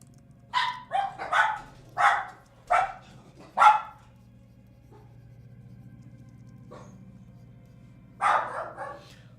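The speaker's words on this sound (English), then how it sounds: "let me quiet the dogs down." Several dogs bark indoors in a run of sharp, close barks, then pause under a low steady hum before a final cluster of barks; no talk over them.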